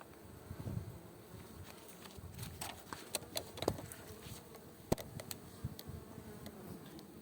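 Honey bees buzz at an open control hive during an inspection for varroa mites, a steady faint drone with occasional louder individual bees passing close.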